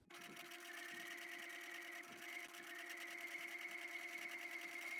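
Sewing machine running steadily along a fabric edge to stitch a mock French seam, a fast even rattling hum that holds without pause, close and clear with no talking.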